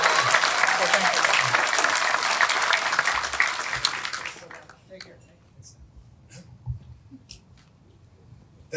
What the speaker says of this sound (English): have you give Miles a round of applause